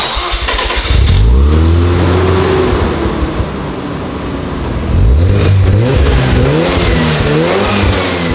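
A Mazda RX-7 FC rotary engine fitted with an aftermarket exhaust revs hard twice, each burst climbing and falling in pitch before settling, loud and close with no talk.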